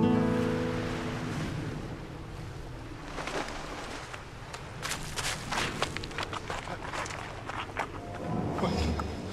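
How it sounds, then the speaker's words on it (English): Ocean surf breaking on the shore of an uninhabited island, a steady broad roar with rising swells and bursts of wind buffeting the microphone, no voices. "the harumphing sound of the waves started to sound like a jet"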